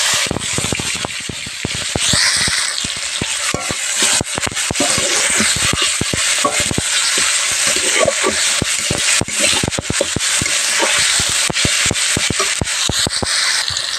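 Tomatoes added to hot oil with turmeric and ginger for a cauliflower roast, giving a loud, continuous hissing fry with dense crackles throughout and no clear speech.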